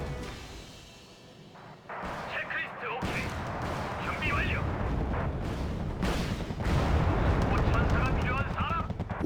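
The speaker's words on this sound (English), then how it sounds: "See how their artillery does." Artillery fire in the Wargame strategy game Bear vs Dragon, sounding as dense, continuous rumbling blasts and booming impacts that build into a loud sustained barrage, with a voice talking over it.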